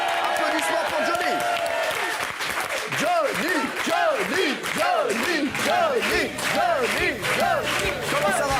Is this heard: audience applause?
yes